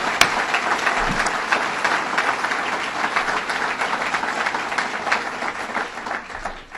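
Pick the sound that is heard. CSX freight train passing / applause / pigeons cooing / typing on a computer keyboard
applause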